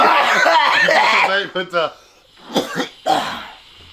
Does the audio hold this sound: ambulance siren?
no